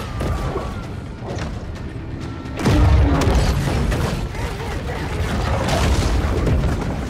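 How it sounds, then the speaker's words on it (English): Torpedoes exploding underwater in Maneater, a deep heavy boom landing mid-clip amid a dense rumbling, churning backdrop, with faint speech beneath the blasts. "there's a lot of torpedoes coming down now"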